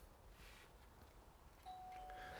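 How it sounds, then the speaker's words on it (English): A standard doorbell gives a single faint, sustained electronic chime tone that rings out clearly against quiet room background noise. "It's a standard bell. It's a standard bell. Ding dong."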